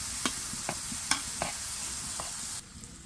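Boiled lentils frying with tomato for dal puri, stirred with a spoon that scrapes and taps the pan in several quick knocks over a soft, quiet sizzle that drops away at the end.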